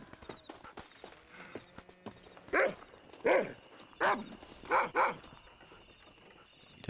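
Hooves clip-clop as a horse walks, about five evenly spaced loud strikes in the middle of the stretch over a faint noisy outdoor background.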